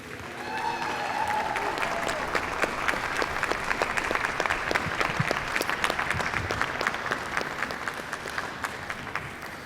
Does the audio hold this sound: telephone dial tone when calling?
no